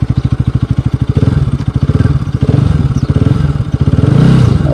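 A Bajaj Pulsar RS200 motorcycle accelerates hard from a standstill to 60 km/h, its engine note rapidly pulsing and climbing through the gears, loud and close with a brief dip between shifts.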